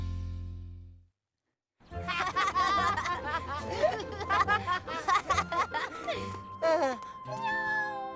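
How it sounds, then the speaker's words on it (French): An animated kitten in a children's cartoon meows repeatedly in high, wavering cries after a short low tone and a brief silence, the calls coming in quick bursts and fairly close. "Oh, un chaton. On t'a abandonné?"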